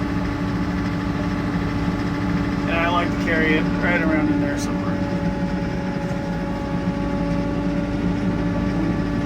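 A TYM tractor engine idles steadily and loudly during haying, a constant droning hum while someone talks briefly over it.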